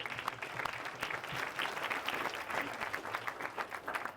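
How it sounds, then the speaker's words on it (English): An indoor audience claps steadily at a closing competition event, a dense, even round of applause that carries on throughout with no voices over it. "One more round of applause, guys."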